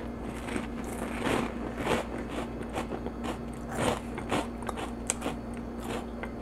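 Pork rinds topped with stevia being chewed up close, with repeated crisp crunches in an irregular rhythm of bites, loud and alone without talk.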